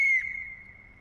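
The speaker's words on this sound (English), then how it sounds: "So Lee, you got the whistle." A football fan at the World Cup in Qatar blowing a whistle, one short shrill blast that tails off into quiet, close by.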